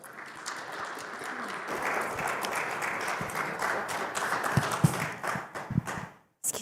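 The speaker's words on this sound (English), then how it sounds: "Let's welcome them with a huge round of applause." Conference audience at a Las Vegas executive event applauding to welcome the panel speakers: a dense, sustained round of clapping that fades out near the end.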